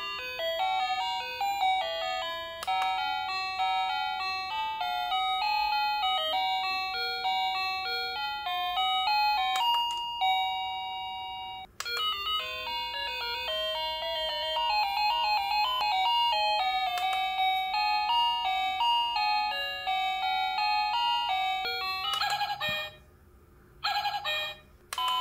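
Wireless connected doorbell, a DiOBELL B02 chime unit, plays a run of its selectable melodies one after another, bright bell-like tones in steady tuneful phrases with short breaks between tunes, clear and close with no talking.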